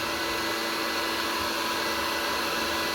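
A Wagner Furno 500 heat gun runs steadily, a continuous broadband whoosh of fan and blowing air held at an even, loud level throughout with no breaks.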